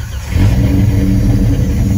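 A Jeep XJ engine runs at a loud, steady idle close by as it is parked, with a deep low rumble and a brief rise at the start.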